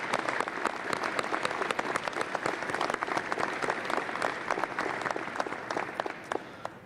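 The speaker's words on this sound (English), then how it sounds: "Let's give Ty a great big round of applause." Sustained, dense applause from a large audience at a university presidential inauguration, loud and steady throughout and tapering slightly at the end.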